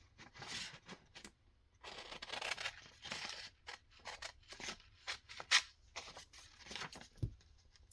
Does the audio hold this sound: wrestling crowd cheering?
no